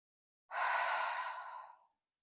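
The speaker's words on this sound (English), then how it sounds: "take an exhale through the mouth" A single long exhale through the mouth, close and soft, a breathy sigh lasting over a second and trailing off gently into silence.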